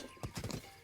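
Horse hooves clip-clop in the video game Zelda: Breath of the Wild, a quick run of four or five muffled thuds close by over a faint background.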